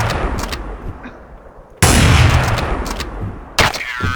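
Loud gunfire bursts from the Counter-Strike: Source video game, with a sharp shot near the start and two heavy blasts near the middle and the end, each dying away over dull background noise.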